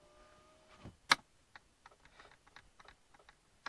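Power window switch in a 2008 Buick Enclave clicking repeatedly while the window stays still; a sharp close click stands out, followed by a string of lighter, irregular clicks in a quiet cab.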